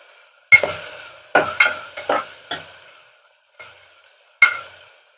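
Green chillies, curry leaves and onions hitting hot oil for a mutton curry, with several sharp bursts of sizzling and stirring clatter spaced by short silences, each burst fading quickly.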